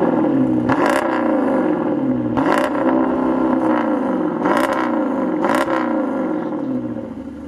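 An all-wheel-drive SUV engine revs hard in four repeated rising bursts, each climbing then dropping sharply, loud and close with no talk.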